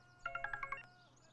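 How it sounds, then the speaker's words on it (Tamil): A phone's electronic ringtone plays one short, bright melodic burst of about six rapid notes, close and clear, then stops over a faint low hum. "ஃபோன் அட்டென்ட் பண்ணுங்க."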